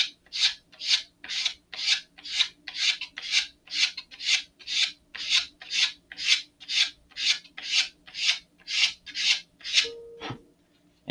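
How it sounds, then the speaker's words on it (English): A part for an Estes Great Goblin model rocket is sanded with a sanding block in about seventeen even back-and-forth strokes, close and steady, ending with a brief knock. "Sanding like this tends to get rid of it."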